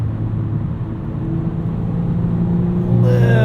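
2022 Volkswagen Golf R with DSG gearbox, engine pulling from about 3,000 RPM in manual mode: a steady, close cabin drone with a rising tone that grows louder near the end as the throttle opens.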